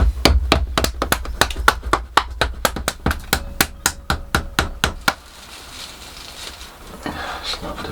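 A hammer drives wedges into a plaster buck beside a fibreglass nosecone in a small shed, about two dozen sharp, evenly spaced knocks in a fast steady rhythm, loud and close, then stopping into quieter rustling.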